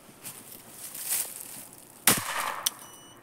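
An air rifle fires a Devastator pellet in a bolt-action test shot: one sharp, loud crack near the end, followed moments later by a shorter, fainter snap, over quiet outdoor background.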